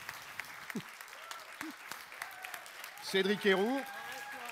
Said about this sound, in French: Je vous demande de faire un tonnerre d'applaudissements pour ces trois très belles personnes